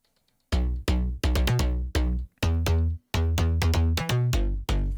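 Three layered slap house bass sounds play together as one punchy, EQ-blended bass, hitting in short rhythmic stabs with brief gaps, loud and alone.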